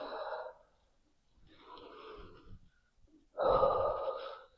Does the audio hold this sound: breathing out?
yes